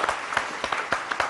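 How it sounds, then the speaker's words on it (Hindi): A small audience applauding guest Deepak on a Hindi talk show, a short burst of distinct, fairly close hand claps in an uneven rhythm. "जोरदार तालियां दीपक जी के लिए।"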